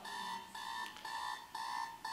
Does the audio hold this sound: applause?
no